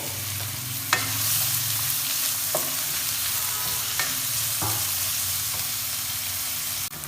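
Chopped onions sizzle steadily in hot oil, with occasional stirring clicks and scrapes from a utensil in the pan.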